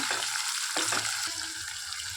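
Onion and tomato masala stirred in a frying pan for a potato masala, with a steady close sizzle and a few scraping strokes of the spoon over 2 seconds.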